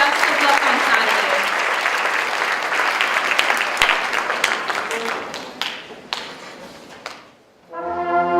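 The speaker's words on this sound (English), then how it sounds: "Let's applaud these students for challenging themselves to the next highest performance level." A concert audience applauds student performers with a full, sustained clapping that thins and fades out, followed by a brief sustained tone as the music begins.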